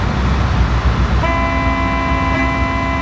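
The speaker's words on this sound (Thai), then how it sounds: "ตัดหน้าครับต้องบีบแตรหน่อยนะครับ" A steady car horn blares from about a second in and holds to the end in Construction Simulator, loud over a dense rumble of engine and traffic noise.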